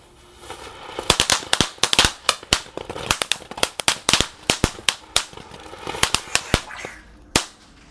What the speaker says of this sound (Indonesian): Yang pertama di sini ada mercon tank.